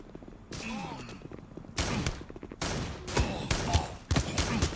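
Pump-action shotgun fire in the mobile shooter Guns of Boom, several loud blasts in quick succession at close range with thuds between them, while someone talks underneath.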